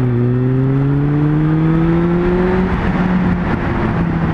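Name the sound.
Suzuki Bandit 600 motorcycle accelerating through gears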